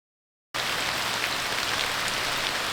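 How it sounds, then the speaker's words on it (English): Pouring rain on a rainy autumn day in upstate New York starts abruptly after a brief silence, then holds as a dense, steady hiss of falling drops. "As I look outside, I see the pouring rain"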